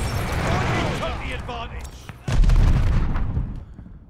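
Gunfire in a multiplayer shooter video game, with sharp bursts and booming shots throughout and a heavier blast midway, heard under excited player voices talking.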